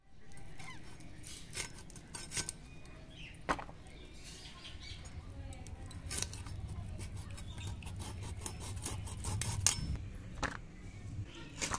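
A desi chicken is cut up by hand with metal tools, giving scattered clinks, clicks and scraping knocks against a steady low background hum, with no talk, at moderate closeness throughout.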